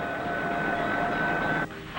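A train of railroad cars rolls along the tracks with a dense, continuous rumble and a sustained whistle-like tone that drops away near the end, recorded for a 1955 railroad film.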